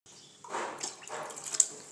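Water is poured into a pot of washed, soaked toor dal, giving soft, close splashing and gurgling in a few short bursts. The sound is fairly quiet overall.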